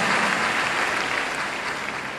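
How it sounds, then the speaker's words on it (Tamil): Audience applause at a church dedication ceremony, a dense, continuous wash of many hands clapping that holds steady and eases slightly toward the end. "கைதட்டுங்க"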